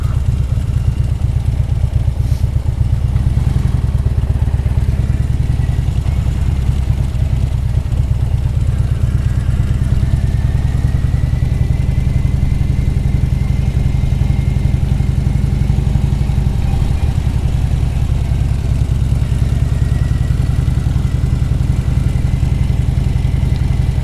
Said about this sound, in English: There's a group of bikes up there.